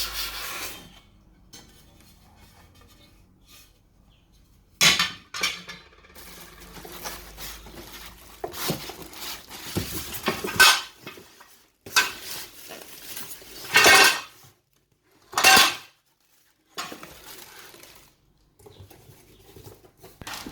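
Non-stick metal grill pan plates of a Sokany 3-in-1 sandwich maker being handled, with sharp clatters and scrapes in several separate bursts between quiet stretches.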